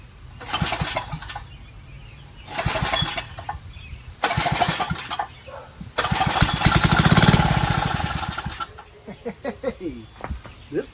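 A Toro Recycler lawn mower engine, choked, being pull-started in a series of rapid recoil-cord yanks: four bursts of cranking chatter, the longest a sustained rattling turnover, followed by a few lighter sputters as it dies away.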